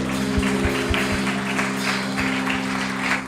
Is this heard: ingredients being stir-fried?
no